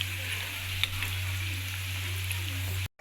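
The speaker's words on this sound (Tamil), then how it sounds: "இப்போ பாருங்கள், நான் மீன் எல்லாத்தையும் பொரித்து எடுத்துட்டேன், சைவ மீன்" Vegetarian fish pieces frying in hot oil, a close, continuous crackling sizzle that holds steady before cutting off abruptly at the end.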